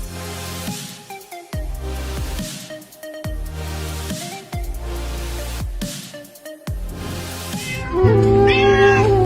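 A small kitten meows repeatedly in loud, evenly spaced cries, one after another, ending in a higher, strained wail, with no talking.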